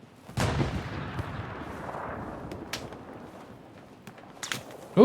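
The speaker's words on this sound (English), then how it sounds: "somebody's shooting at me" Shots ring out in a front-line shooter video game: a sharp loud report near the start, then scattered fainter distant cracks over a rumbling battlefield background, with another burst at the very end.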